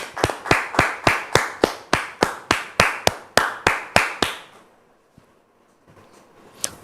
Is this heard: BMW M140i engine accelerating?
no